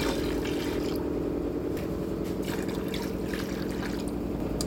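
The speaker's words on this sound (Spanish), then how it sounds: "Eso de vinagre y después agua hasta que lo tape al carpincho." Water pours steadily into a pot over capybara meat and vinegar for escabeche, a continuous close liquid rush and trickle with no talk.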